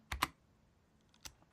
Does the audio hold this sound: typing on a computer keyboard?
yes